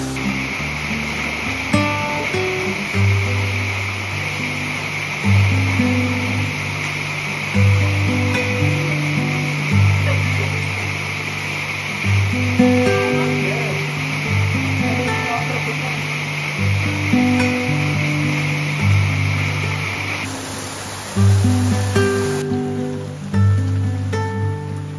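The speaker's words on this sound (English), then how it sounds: "We found this random waterfall at the end, and we're gonna swim now." A waterfall found at the end of a hike, at a swimming spot, gives a steady, continuous rush of falling water throughout, layered under music.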